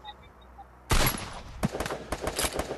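Gunfire erupts in a Free Fire Clash Squad match, starting with a loud burst and continuing as a rapid, uneven string of close shots after a quiet start.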